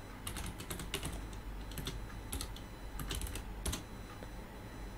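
Fast clicking on a computer keyboard while coding a self-driving simulation in TensorFlow, quick irregular bursts of keystrokes, close and steady with no talk.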